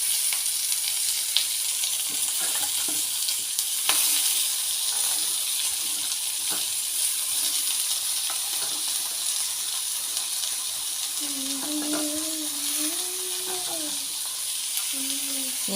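Ivy gourd sizzles steadily as it fries in a pan with curry leaves over a low flame, with occasional scrapes of stirring; a voice speaks briefly near the end over the continuous hiss.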